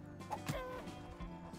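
Chicken clucking in the video game Lumberjack: a few short clucks and fowl calls over a steady background game soundtrack, moderately loud with no talk.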